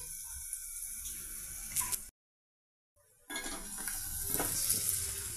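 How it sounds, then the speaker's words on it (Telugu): Tomato and cocoa powder frying in oil for a taro root (arbi) tamarind curry, a steady close sizzle with stirring scrapes, broken by a second of silence before the frying resumes louder. "ఇవి కూడా ఆయిల్తో ఫ్రై అవుతున్నాయండి"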